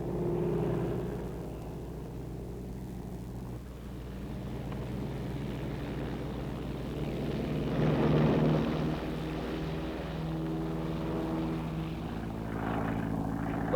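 Propeller-driven tow planes pulling gliders in flight during 1943 wartime training give a steady droning engine hum throughout, swelling slightly in the middle, heard with no talking.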